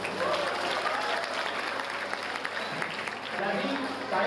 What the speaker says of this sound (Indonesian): Nova, tepuk tangan Nova.